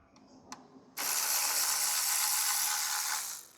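A ratchet loosens 10mm bolts holding the washer bottle on a Mini R53 Cooper S, with a couple of faint clicks, then a sustained rapid ratcheting burst lasting over two seconds.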